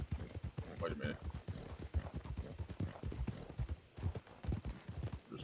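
Horse hooves clip-clopping at a steady trotting pace in the RedM game world, repeated rapid thuds running throughout with a person talking over them.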